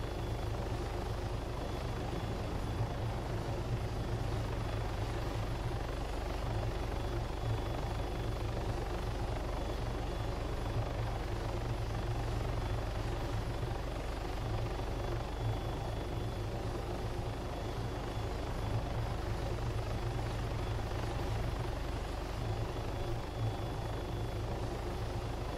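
A helicopter in the video game Arma 3 circles with a constant, dense rotor drone and engine whine that hold steady throughout, with no voices.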